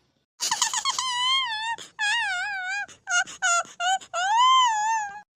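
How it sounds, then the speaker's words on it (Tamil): A baby cries in a run of high, wavering wails and short sobbing bursts separated by brief breaths, close and fairly loud with no other sounds. "ஐயோ விடு பாப்பா அழுகிறா"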